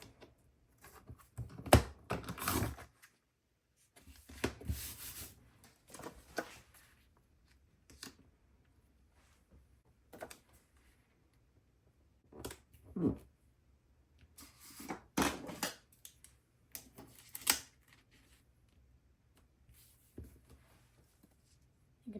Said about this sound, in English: I'm going to cut another 6 by 8 strip for the other page.